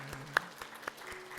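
Congregation applause during a Korean church Sunday service, quiet and sparse clapping with a few sharper individual claps standing out over a low room hum.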